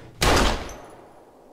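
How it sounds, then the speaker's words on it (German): A single loud gunshot in the video game Life is Strange cracks sharply and close, then decays into a fading rumble. "Und es hat natürlich keiner den Schuss gehört."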